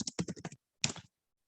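A computer keyboard being typed on: one quick burst of about seven close keystrokes, a short pause, then a second brief flurry, with no voice.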